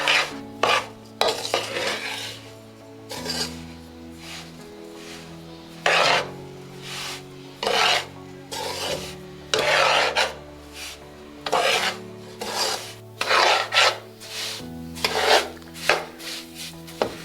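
A mixture is stirred and roasted in ghee in a pan for mandal, with repeated rhythmic scraping strokes in bursts separated by brief pauses, close and with no talking.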